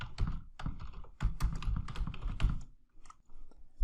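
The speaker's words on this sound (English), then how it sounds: "So I'm going to type in cushion covers." Rapid typing on a computer keyboard, close and clear, with bursts of quick keystrokes separated by short pauses and no talking.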